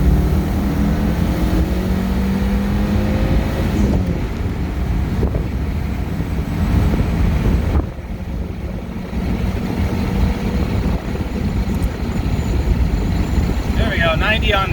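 A 1999 Mitsubishi Eclipse Turbo Spyder accelerates in second gear, engine drone rising in pitch under heavy wind buffeting, with a brief dip near the middle as the run continues.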